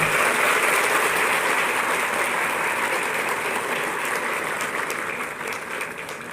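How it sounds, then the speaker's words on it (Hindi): Sustained audience applause fills the hall at a government appointment-letter distribution ceremony, steady and loud throughout before slowly tapering off near the end. "आपकी दोहरी तालियां अपेक्षित हैं"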